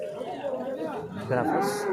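A cow lows at a busy cattle market in Chintamani, a short moo rising amid crowd chatter and people talking nearby.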